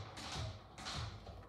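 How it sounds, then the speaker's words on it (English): Two short, soft bursts of a dog's claws scraping on a hard floor as it runs while lying on its side, faint and close with no voices. "Can you guys hear that scratching on the floor?"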